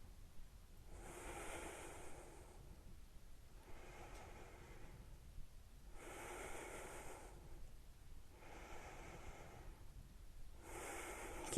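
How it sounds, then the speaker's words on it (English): Slow, deep breaths during a yoga pose come in a regular cycle of long airy inhales and exhales, soft and close, each separated by a short pause, with no talking. "Full deep breaths."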